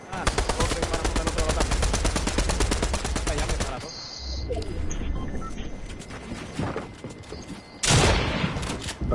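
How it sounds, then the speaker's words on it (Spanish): Rapid bursts of automatic gunfire from a video game shootout, loud and sustained for several seconds, then a lull with scattered shots and a final heavy blast; voices talk over the action. "Está disparando."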